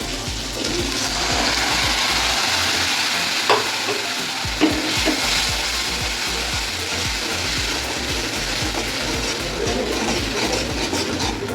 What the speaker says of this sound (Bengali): এবার আমি তেল উপরে ভাসা অবধি একটু নাড়াচাড়া করবো।